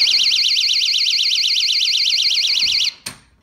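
A door security alarm blares a loud, continuous warbling siren for almost three seconds, then cuts off abruptly, followed by a single sharp click or knock.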